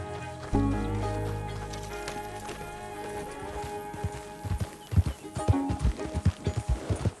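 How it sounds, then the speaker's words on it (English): Hooves clop rhythmically on hard ground in Red Dead Redemption 2, starting as a steady gait and quickening into an uneven gallop near the end, over a soft musical backdrop. "My horse ran away!"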